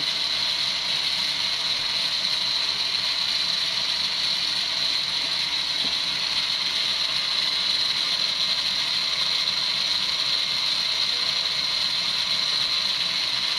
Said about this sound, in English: Running oil on a lathe.